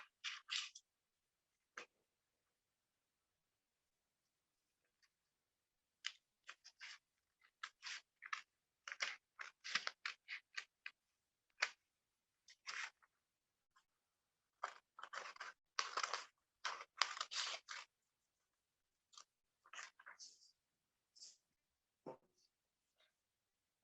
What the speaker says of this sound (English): just cut out this excessive part using a scissors